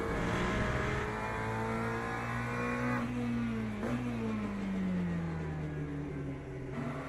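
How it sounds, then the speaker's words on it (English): A McLaren hypercar cruises steadily in the racing sim Le Mans Ultimate, its engine holding a sustained droning note that rises and then slowly falls, loud and close throughout with no talk. "A gentle evening drive with my McLaren back home."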